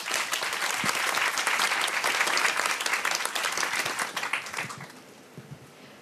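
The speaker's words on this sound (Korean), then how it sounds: "박수로 맞아주세요" An audience at a youth talk concert claps to welcome a young carpenter taking the stage, a dense, sustained wash of applause that holds steady and then thins out toward the end.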